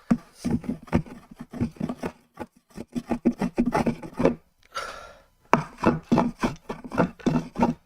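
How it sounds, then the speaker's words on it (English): A garden tool blade is sharpened with rapid, rhythmic rasping strokes heard up close, running in quick bursts with a short pause midway before the strokes resume. "It's time to sharpen it, to shave with it"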